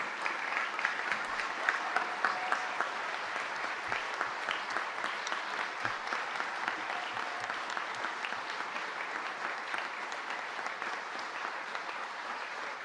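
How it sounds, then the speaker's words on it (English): Audience at a Los Angeles city council meeting breaking into sustained, dense applause that fades slowly. "Larry, Marion, Sue, Kevin, please stand so we can congratulate you, applaud you, and thank you again"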